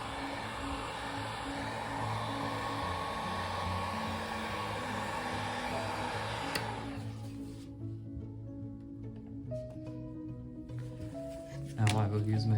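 Heat gun blowing a steady broadband rush onto the adhesive under the home button of an iPhone 8 Plus during screen replacement, loud and continuous before cutting off midway, leaving quieter handling sounds and a faint hum.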